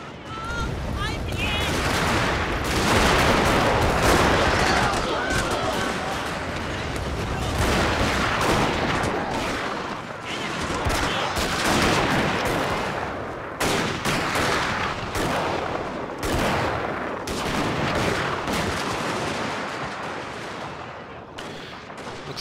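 Dense musket volleys crackle and boom in a Total War: Shogun 2 – Fall of the Samurai battle, loud repeated rippling gunfire layered continuously over battlefield noise while someone talks.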